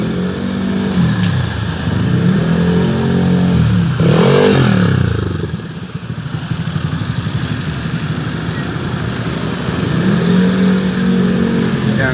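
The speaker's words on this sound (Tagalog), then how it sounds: "Yan guys, sobrang traffic guys." Heavy road traffic crawls past a roadside spot after a dump truck overturned from a tyre blowout, with cars and motorcycles revving, engines rising and falling in passing sweeps, loud and close and continuous.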